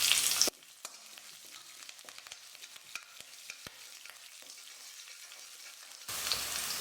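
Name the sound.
urad dal, chana dal and green chilies frying in oil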